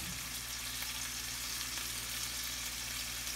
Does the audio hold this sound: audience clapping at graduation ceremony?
no